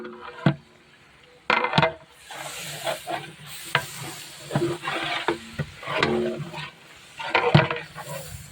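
A pan of chicken biryani masala with salt is stirred, giving repeated scraping strokes over a soft, steady sizzle with occasional louder clatters from the spoon against the pan.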